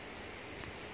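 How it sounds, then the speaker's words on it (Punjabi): Heavy rain, a dense, steady patter of drops hitting surfaces, faint and continuous throughout, with no voices. "ਇਤਨੀ ਤੇਜ਼ ਬਾਰਿਸ਼ ਹੋਣੀ ਪਈ"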